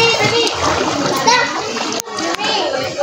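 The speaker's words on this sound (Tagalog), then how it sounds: "Naliligo kami dito, panandalian, pang paalis ho ng stress." Water splashes as people, including children, bathe and play in a stream, with children's voices talking and calling over the sloshing throughout the short stretch.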